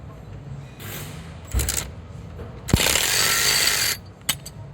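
A ratchet wrench loosens a bolt on the fuel rail of a 2017 Honda CR-V during injector work. Two close bursts of rapid pawl clicking are separated by a sharp metallic knock, with no talking.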